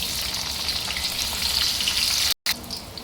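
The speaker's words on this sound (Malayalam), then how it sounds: "ചൂടായ വെളിച്ചെണ്ണയിലേക്ക് ഒരു കഷ്ണം ഇഞ്ചി ചെറുതായിട്ട് അരിഞ്ഞത്, 2 പച്ചമുളക് ചെറുതായിട്ട് അരിഞ്ഞത്" Finely chopped ginger and two green chilies fry in hot coconut oil, giving a loud, continuous close-up sizzle with a brief cut near the end and no voices.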